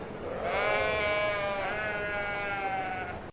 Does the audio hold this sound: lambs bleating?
yes